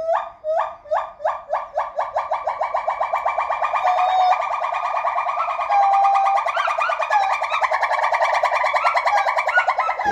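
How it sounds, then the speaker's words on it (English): Pileated gibbons give a series of loud, rising hooting calls that speed up into a long, continuous warbling trill, with no other sounds around it. "Pileated gibbons do have very loud vocalizations."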